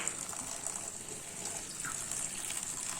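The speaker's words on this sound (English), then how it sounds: "again I am watering it" Water pours steadily from a container over moong bean sprouts to soak them, giving a soft, even trickling splash at moderate loudness throughout.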